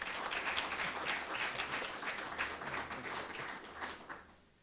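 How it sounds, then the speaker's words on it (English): A room of attendees at a school board meeting applauds steadily, the clapping dense and moderately distant before tapering off at the end, with no talk over it. "If we could give them a round of applause."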